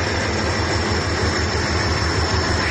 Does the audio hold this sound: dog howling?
no